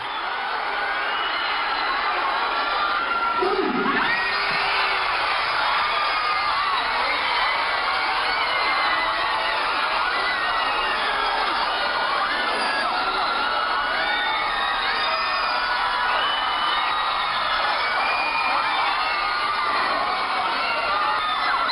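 A large crowd at a military conscription draw cheers and shouts continuously, a dense wall of excited voices and whoops that stays loud throughout.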